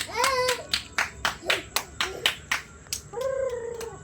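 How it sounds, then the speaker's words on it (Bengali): Hands clap in a quick, steady run of about eight claps at a Diwali sky-lantern launch, with voices calling out at the start and again near the end. "হাততালি হাততালি"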